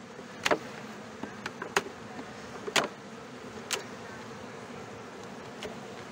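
Honeybees buzzing faintly around opened hives being inspected after relocation to a new site in Vysočina, a low steady hum with a few sharp clicks and knocks from hive handling.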